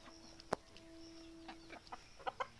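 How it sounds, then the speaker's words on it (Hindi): A farm rooster pecks at scattered rice, making a few soft, quiet clucks and sharp pecking taps spread across the moment, with faint background ambience. "ये मुर्गा साहब चावल छीटे हैं, कैसे खा रहा है साहब"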